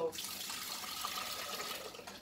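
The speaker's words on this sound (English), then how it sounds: "So for washing, basically, let's wash your rice." Tap water runs steadily for rice washing in a home kitchen, a broad continuous hiss that stops briefly near the end.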